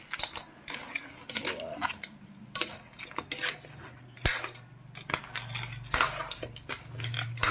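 Crab and squash in coconut milk being stirred in a pot, with repeated metallic clinks and scrapes of a utensil against the pot at an irregular pace, close and fairly clear.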